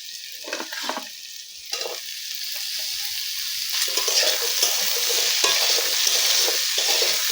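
Drumsticks and potatoes fry together in oil in a pan, giving a close, continuous sizzle that swells louder over several seconds, broken by a few stirring scrapes early on.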